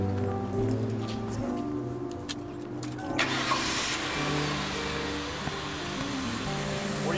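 A car engine cranks and catches, then settles into a steady idle hum with a brief rise in revs, heard close and alone without talk.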